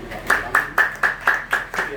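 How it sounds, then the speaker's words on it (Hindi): Rhythmic hand clapping, about eight sharp claps in an even beat, close and fairly loud, with a faint murmur of voices behind. "एक बार बाबूजी के लिए जोरदार ताली बजा दें"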